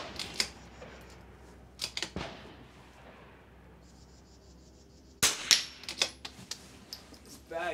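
.22 rifle shots fired at NRL22 match targets on an outdoor range: several sharp, close cracks at irregular intervals, with a quicker cluster of reports later, separated by quiet background.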